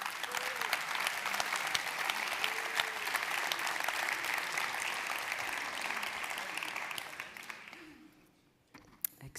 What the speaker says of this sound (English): I'd like a warm round of applause to invite Susanna to the stage.